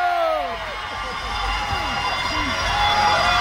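A concert crowd at an outdoor tomato festival in Busan cheers for a trot singer, a steady roar of many voices with shouts rising and falling, while a voice speaks over it.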